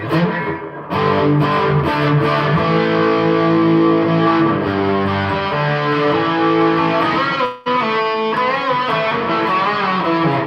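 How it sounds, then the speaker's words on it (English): An electric guitar played through stereo chorus, delay, reverb and compression rings out in sustained, shimmering chords and notes, loud and continuous, with one brief drop before the playing resumes. "Plus some chorus, plus some delay, plus some reverb, plus some compression."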